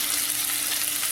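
Stuffed bitter gourd being turned in hot oil, a brief, close and steady frying hiss with no voices.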